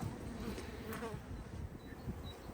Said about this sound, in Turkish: Bakın oradaki kovandaki arıları aldık. Buradaki temiz kovana silkeliyoruz.